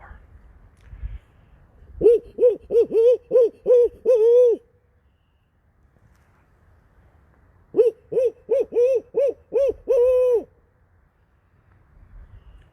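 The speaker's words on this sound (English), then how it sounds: "Someone had reported hearing barred owls here the other night" A barred owl hoots in two loud rhythmic series of about seven calls each, separated by a long pause, close and clear with little else around, in woods at night.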